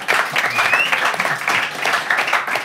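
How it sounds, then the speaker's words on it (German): A studio audience claps after a German late-night interview host asks for applause, a dense, steady burst of clapping at close range lasting a few seconds with no talk over it. "Applaus dafür bitte"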